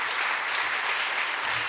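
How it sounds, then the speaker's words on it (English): A crowd at an outdoor democracy rally claps in a dense, even round of applause that holds steady and fairly loud throughout, with no voices. "So let's give a big round of applause to them as well for everything they're doing."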